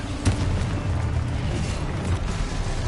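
Explosive spells go off in the video game Hogwarts Legacy, with a sharp burst near the start and then a dense, continuous rumble of blasts and booms.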